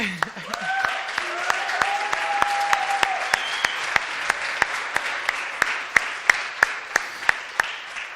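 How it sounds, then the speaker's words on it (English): An audience at a technology park event applauds the head of a new VR/AR lab, with steady sustained clapping throughout and sharp individual claps standing out, plus faint tonal sounds early on. "so a big applause for Aleš"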